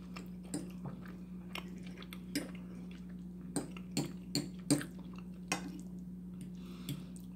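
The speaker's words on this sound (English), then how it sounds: "I'm hoping you can't hear me chewing that loudly." Close, soft chewing of Lean Cuisine chicken parmesan with spaghetti, with irregular crunchy clicks and bites, over a low steady hum, with no talking.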